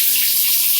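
Cooked broccoli being drained in a kitchen sink under running cold tap water, a steady, close hiss of flowing water and splashing throughout the brief moment.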